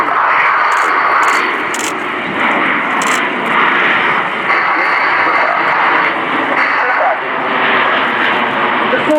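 Nine Frecce Tricolori jets flying in formation through a barrel roll at an air display, a loud continuous roar of jet engines that holds steady throughout.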